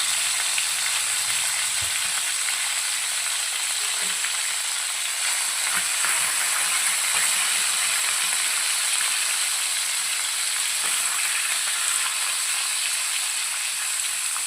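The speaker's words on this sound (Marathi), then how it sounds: "दोन्ही साईडला आपण याला अशा पद्धतीने थोडंसं फ्राय करून घेऊया." Mackerel fish frying in a pan for a coconut milk curry gives a steady, close, even sizzle and hiss that runs unbroken from start to finish, with no talk over it.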